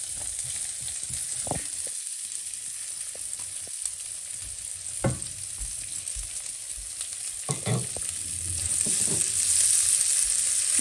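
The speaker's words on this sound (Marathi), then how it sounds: "कांदा चांगला फ्राय करून घ्यायचा." Chopped onion fries in olive oil, a soft constant sizzle under occasional stirring knocks and scrapes, building slightly louder toward the end with no one speaking.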